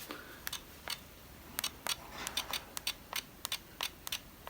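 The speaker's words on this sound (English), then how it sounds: "if I start to use a smaller aperture and I press the button, then you start to hear a click" Depth of field preview button on a camera pressed repeatedly with a small aperture set, the diaphragm closing in a series of crisp, quiet mechanical clicks at irregular intervals, close and alone.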